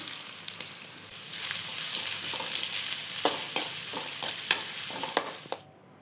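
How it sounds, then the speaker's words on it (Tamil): Sliced big onion frying in hot oil for pepper chicken, a dense steady sizzle with scattered crackles and spatters, up close and alone, fading out at the very end. "இது எண்ணெயில் போட்டு முதல்ல இதை பொரித்து எடுத்துக்கலாம்"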